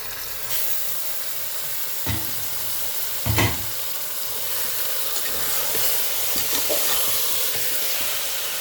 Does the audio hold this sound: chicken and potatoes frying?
yes